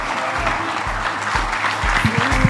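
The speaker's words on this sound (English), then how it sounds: "Ladies and gentlemen, put your hands together for the Ghana team." A crowd claps for the Ghana team at a student competition and trade fair, steady applause with a voice talking through it and low tonal sounds cutting in repeatedly.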